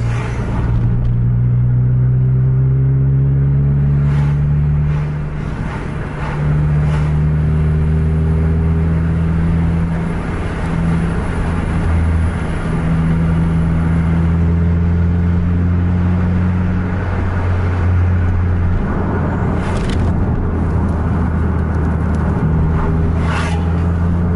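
Busy road traffic with intercity buses racing on a highway, a loud continuous engine rumble with rising and falling revs from nearby heavy vehicles, no voices.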